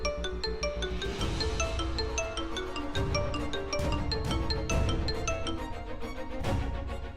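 A phone rings with a steady, repeating ringtone melody over dense background music, lasting several seconds with no talk, as a call comes in from the press in a drama scene.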